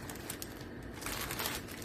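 A thin plastic bag holding a koi fish diamond painting kit crinkles and rustles continuously as the kit is pulled out, the crackling growing a little louder toward the end.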